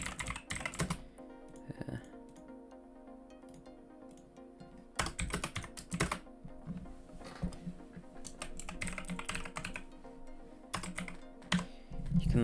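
Rapid typing on a computer keyboard, close and fairly loud, with irregular bursts of clacking keystrokes and brief pauses, no one talking.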